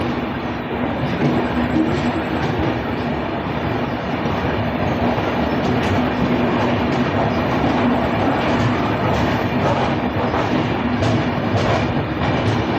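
The Yesvantpur–Vasco da Gama Express pulls out of Harihar station with a loud, continuous rumble of rolling coaches and repeated clickety-clack wheel beats, heard from on board.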